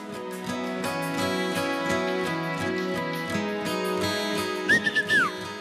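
Steady tonal music plays throughout, and near the end a few short whistle notes from people in an audience rise and sweep down over it, at a televised casting in Kyiv.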